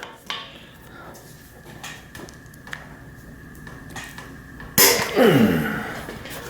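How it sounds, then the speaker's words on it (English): A tight 6mm stem clamp bolt on a Specialized Allez road bike with a damaged frame is worked with a tool: a few faint clicks, then one loud sharp crack as it breaks loose, ringing briefly before fading. "So now I'll go ahead and loosen that bolt, 6mm."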